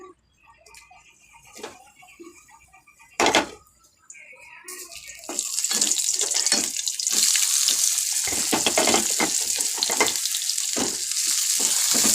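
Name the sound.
onions frying in oil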